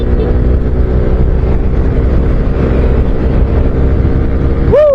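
Motorcycle engine drone on a morning ride toward Nueva Ecija through Bambang, Nueva Vizcaya, a steady loud rumble mixed with rushing wind over the microphone, ending in a rising whine as the engine revs up.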